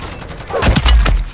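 Turret gunfire in Modern Warfare 3 Zombies, a few loud, punchy shots with booming low thuds clustered in the second half, close and alone.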